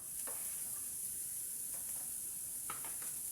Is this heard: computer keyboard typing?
no